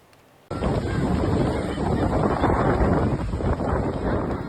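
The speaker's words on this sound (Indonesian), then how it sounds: "angin kencang bergemuruh ini juga memporak-porandakan sejumlah tenda UMKM di lokasi" Strong wind roars through a town square in Jember, East Java, during a rainstorm. After a brief quiet moment, a loud, sustained buffeting roar sets in and stays close and heavy until the end.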